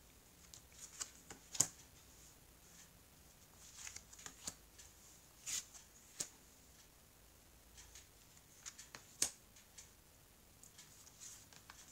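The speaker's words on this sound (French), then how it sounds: "Alors, je vais étaler les cartes." Tarot cards are spread out on a surface, giving soft scattered slides and light taps at irregular intervals, close and fairly quiet, with no talk.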